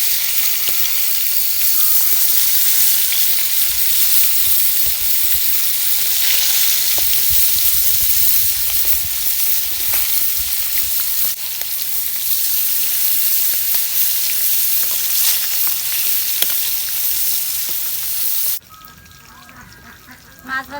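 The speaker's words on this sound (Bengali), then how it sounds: "মাছগুলা এখন আমি উল্টাইয়া দিব। তেল পিঠে ভাজা হচ্ছে" Pangas fish shallow-frying in oil, a loud, continuous hissing sizzle heard up close for most of the time, cutting off abruptly near the end to near quiet.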